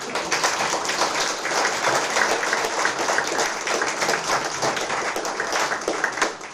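Audience applause for a panel at a dinner event: a dense, continuous round of clapping from a room of people, loud and steady throughout with no voices over it.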